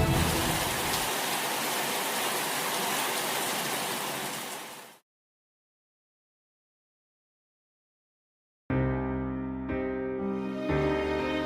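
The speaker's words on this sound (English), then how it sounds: "Hitler's plan was working until the rain came." Heavy rain pours in a dense, steady wash that fades out into silence, then music swells in afterward.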